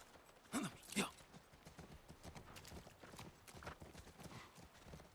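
Horse hooves clip-clopping in The Last of Us, with two louder hoof strikes near the start followed by a steady, quieter run of footfalls and a brief whinny-like sound.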